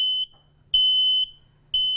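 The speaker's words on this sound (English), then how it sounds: "So once the alarm goes off, which we'll try to do now, it will light up." A household smoke alarm goes off with loud, piercing high beeps repeating about twice a second in an even on-off rhythm, alone and close.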